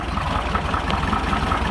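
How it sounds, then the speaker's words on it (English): The 1641 cc air-cooled engine of a Volkswagen T2 camper runs at a steady, even rumble, close and continuous, with no voices over it. "Have a listen to the engine while we're having it."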